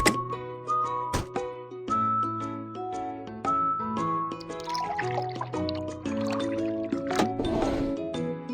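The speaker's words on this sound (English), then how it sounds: "Pour liquid into the correct tank." Cartoonish liquid pouring into a car tank in a children's auto repair video game, with bubbly gurgles, drips and plinking musical tones in a rapid, steady sequence.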